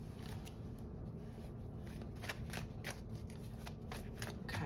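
Tarot cards being shuffled close up, a steady run of soft riffling flutters and papery snaps with no talk over them.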